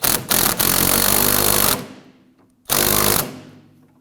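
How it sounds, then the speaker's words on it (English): Power tool with a 14mm socket tightening the cam nut on a rear lower rearward control arm of a 2008–2011 Ford Focus, firing in two loud close bursts, the first longer, with a short pause between. "We're going to use our 14mm socket and do this."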